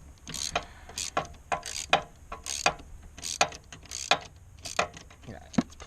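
A wrench works loose a bolt on a Subaru valve cover, giving a rapid series of sharp metallic ratcheting clicks in short uneven bursts, close and fairly loud.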